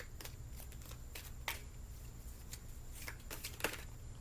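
Halloween oracle cards by Stacy DeMarco being shuffled by hand, heard as a few soft, quiet riffles and taps spaced irregularly against near silence.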